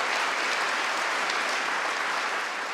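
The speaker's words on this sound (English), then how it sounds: "please give Madeleine a round of applause" Applause for former Secretary of State Madeleine Albright at an evening talk fills the hall, a dense, steady clapping from the audience that stays loud throughout.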